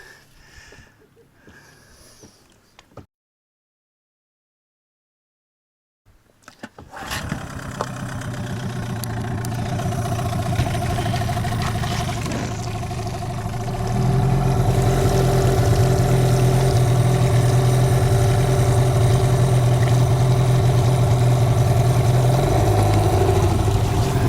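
After a brief silence, a boat's outboard motor starts and runs steadily, its droning hum growing louder and rising in pitch midway as it speeds up.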